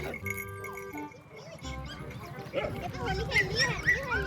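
A puppy barks and yips in a village yard, short repeated yaps coming and going amid other farm sounds while people talk nearby.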